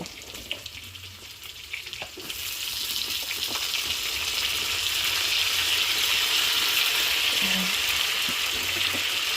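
String beans go into a pan of frying pork adobo. The sizzling starts quiet and sparse, then swells into a loud, continuous crackle a couple of seconds in and holds steady to the end.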